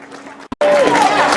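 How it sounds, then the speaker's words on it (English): A crowd at a Zelda-themed costume competition at Game City 2011 breaks into loud, sustained clapping and cheering for a contestant on stage, after a brief pause in a voice talking. "massive round of applause for this fella here"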